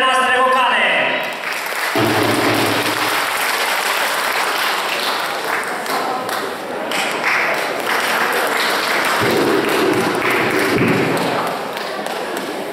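Audience applause for female vocal soloists at a summer concert, a full sustained clapping that continues steadily, with thumps and a voice audible near the start.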